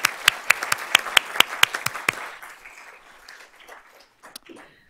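Audience at a school board of trustees meeting claps in a burst of sharp, distinct claps that thin out and fade within a couple of seconds, leaving a quiet room with a few faint stray sounds.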